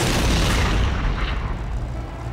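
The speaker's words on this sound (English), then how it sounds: "let's try the big, pointy, explodey thingies. Missiles! They're called missiles." Cartoon missiles roar away and explode in a loud, broad rumbling boom that fills the moment and slowly fades, with no talking over it.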